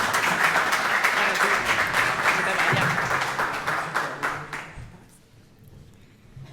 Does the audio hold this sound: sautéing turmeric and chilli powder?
no